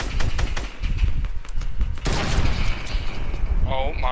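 Fortnite Season 9 gunfire, rapid close bursts of shots over loud game noise, with people talking over the action.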